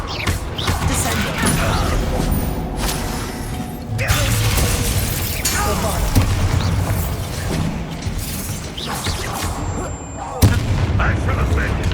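Confringo fire spells burst in the Hogwarts Legacy video game, loud booming blasts and mechanical rattles over a dense battle din, with voices calling out over the noise.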